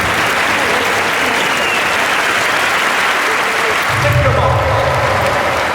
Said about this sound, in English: all of those fans who make so much noise